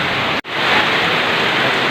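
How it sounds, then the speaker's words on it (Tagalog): Heavy rain pours down in a dense, loud, steady hiss, broken by one brief cut near the start before the downpour resumes. "At yan, sobrang lakas na naman ng ulan"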